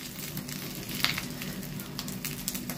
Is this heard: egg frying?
yes